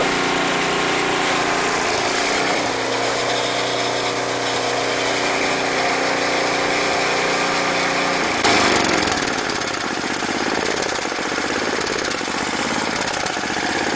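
An old snow blower engine, salvaged from the garbage, idles loudly and steadily close up with a rough, rattling chug, its tone shifting briefly partway through.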